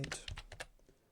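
Keys pressed on a retro computer keyboard while a BASIC program is typed, about six close, crisp clicks in quick succession, then fading to quiet.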